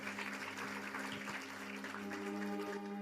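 A church congregation applauding after a Bible reading, with a steady, continuous wash of clapping over a faint tonal background.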